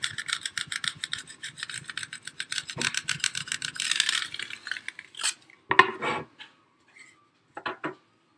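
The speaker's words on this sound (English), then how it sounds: "So I'm going to go through and just scrape all of these on." A tool scrapes Cricut stencil material onto a painted wood sign in rapid rhythmic rasping strokes, close and crisp. The strokes then break into a few scattered scrapes and taps before stopping.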